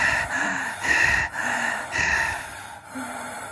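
Forceful rhythmic breathing exercise with an audible throat sound, a series of about five strong, hoarse breaths in and out at a steady pace, close and loud with no talking.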